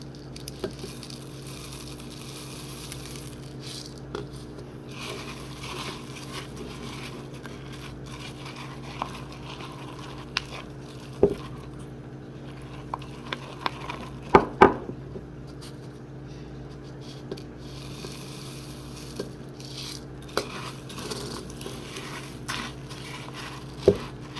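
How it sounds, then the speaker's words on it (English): Rice Krispies cereal being stirred into a smooth melted mixture, giving a steady soft crackling and squishing with occasional sharper scrapes of a spoon against the pot, close and continuous with no talking. "gradually add in your Rice Krispie cereals and continue to mix"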